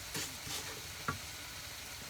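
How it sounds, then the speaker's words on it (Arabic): Fish frying in a pan for a seafood paella makes a steady sizzle, with two brief stirring scrapes early on and a small clink near the middle, close and fairly quiet, with no voices. "نمشي ثانيا نقلي الحوت"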